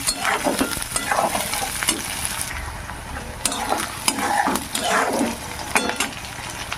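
Onions sizzle in a pan as a spoon scrapes and stirs them, producing repeated bursts of scraping over a continuous frying hiss, close and fairly loud.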